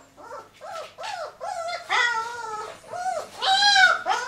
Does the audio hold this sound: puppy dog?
yes